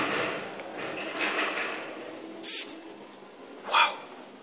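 Smart access-controlled door opening, two short clicks of the lock mechanism spaced about a second apart, close and clear over soft background hiss.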